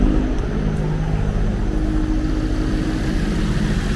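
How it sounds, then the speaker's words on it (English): A rebuilt 2013 Chevy Equinox engine runs at a steady idle close by, a continuous low rumble with an even hum and no talking. "Engine sounds pretty good,"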